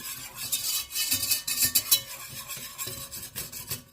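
A whisk scrapes rapidly against a pot while flour is worked into a roux for macaroni and cheese, close, uneven metallic strokes with a faint sizzle beneath.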